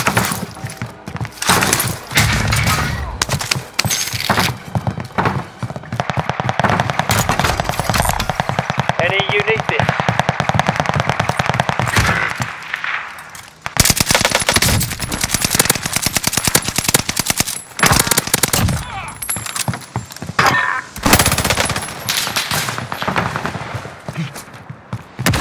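Sustained automatic gunfire crackles loudly and almost continuously in a military shooter video game firefight, with bursts of rapid shots, impacts and breaking debris. A brief pause comes midway, then the heavy shooting resumes. Voices speak under the barrage.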